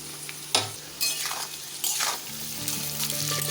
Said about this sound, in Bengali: এখানে সবজিগুলোকে একদম মিডিয়াম ফ্লেমে আমি ভেজেছি।